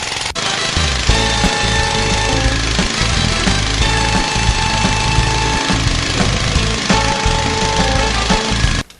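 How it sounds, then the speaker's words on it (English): Wood-gas fueled internal combustion engine driving a generator, a loud, steady, rapid knocking clatter that runs continuously, then cuts off abruptly at the end. "The engine is hooked up to a generator."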